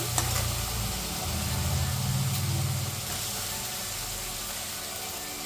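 Green chillies sizzling in a little hot oil, a steady close hiss with a low background rumble and no talking.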